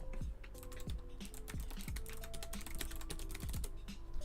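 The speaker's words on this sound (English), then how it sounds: "Sorry for the typing. I'm sure it's ridiculous sounding." Rapid clacky keystrokes on a custom mechanical computer keyboard, a busy irregular patter of sharp clicks close to the microphone, with no talking.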